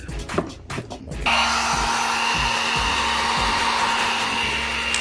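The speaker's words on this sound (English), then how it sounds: "I'm heating it up again so I can kind of push it in further." A hair dryer or heat gun blows steadily and loudly on a Nissan G37 headlight housing to soften it for a halo ring install, switching on after a second of handling and then roaring without a break.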